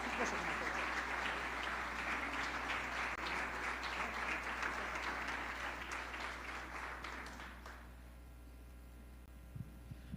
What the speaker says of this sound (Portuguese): Então nós vamos receber o professor aplaudindo Jesus e dando glória a Deus por isso